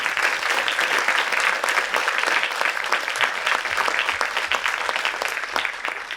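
Sustained audience applause at a doctoral research conference, dense steady clapping from a sizable crowd throughout, no voices over it.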